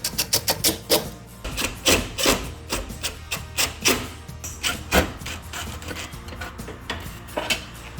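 Screws being fitted back into the casing of a Sanyo PTAC unit during a power cord replacement, with a run of close, sharp scraping and clicking taps in an irregular rhythm.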